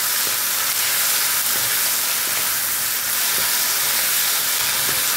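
Prawns and vegetables fry hard over a high gas flame for a Manchurian prawn dish, a loud, steady, close sizzle and hiss with faint stirring taps and no talking.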